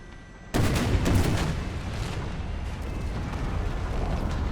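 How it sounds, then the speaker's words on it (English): Cannon fire from troops in the strategy game Empire 2, a sudden loud boom that opens a sustained rumbling roar of distant artillery and musketry, continuing steadily without speech. "Shots bouncing through, forcing the Polish troops into a retreat."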